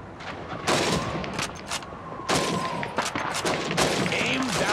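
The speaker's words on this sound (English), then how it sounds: "Shoot those bottles and plates." Rifle fire at bottles and plates on a shooting range in Call of Duty 2, several sharp, loud shots in irregular succession, some quick pairs, with reverberating tails and breaking debris between them.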